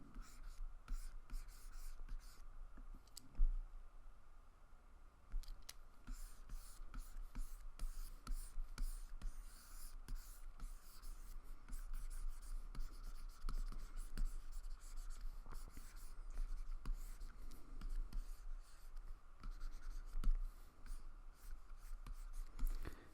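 Graphite pencil scratching across paper while sketching heads, a steady close soft rasp with short strokes and pauses throughout, faint and alone with no talking.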